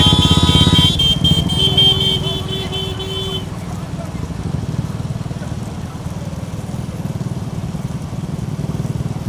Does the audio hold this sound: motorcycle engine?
yes